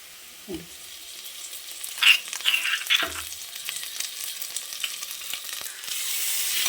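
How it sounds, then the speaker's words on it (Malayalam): Crushed ginger and garlic sautéing in a hot pan for vegetable biryani, a soft steady sizzle with a few stirring scrapes and clinks, the frying hiss swelling louder toward the end. "വെളുത്തുള്ളി ഇഞ്ചിയും ചതച്ചത് ഇട്ട് കൊടുത്ത് ഒന്ന് വാടിക്കണേ"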